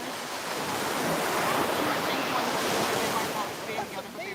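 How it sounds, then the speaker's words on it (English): Ocean waves break on the shore at sunset, a continuous loud wash of surf with wind buffeting the microphone throughout. "the sound of the waves is amazing"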